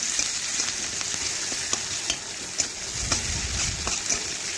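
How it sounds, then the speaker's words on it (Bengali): Sliced onions fry in oil in a pan, a steady close sizzle with occasional sharp crackles and pops, continuous and unaccompanied by talk. "তো দেখুন পেঁয়াজগুলো লাল লাল করে একটু ভেজে নিচ্ছি"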